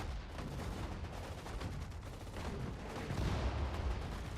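Battle sounds from Sudden Strike 4, a World War II strategy game set in the Dunkirk campaign: dense, continuous gunfire and booming tank cannon shots overlap in a loud, sustained barrage.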